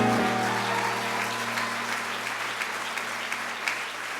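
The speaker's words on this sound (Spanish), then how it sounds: "Denle un aplauso al líder de esta iglesia." Church congregation applauding their church leader during a sermon, a steady wash of clapping from many hands, with a sustained tone fading out at the start.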